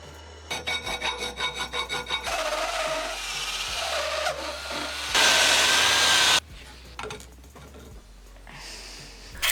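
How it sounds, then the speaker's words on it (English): Hand filing on wooden lathe headstock pieces to fit bearings: a rhythmic run of rasping strokes, then longer scraping passes and one loud harsh burst, close and steady with no talking. "I keep on filing until everything's the right size for the bearings"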